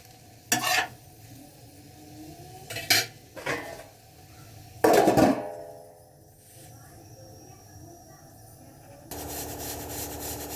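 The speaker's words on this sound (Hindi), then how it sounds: "अब वापस से ढक के रख देते हैं।" A lid clatters onto a pot of cauliflower sabzi cooking in a home kitchen, with a few sharp metallic knocks and one louder clank amid a soft background sizzle, close and clear with no talk.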